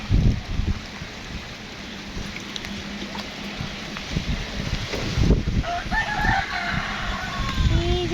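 A rooster on a rain-soaked poultry farm crows, standing out over a constant wash of falling rain, with scattered clucks and faint bird calls alongside.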